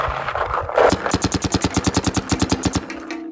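A Planet Eclipse GEO4 paintball marker fires a rapid, evenly spaced string of about a dozen and a half close, sharp pops at a fast rate, then stops, with no talking.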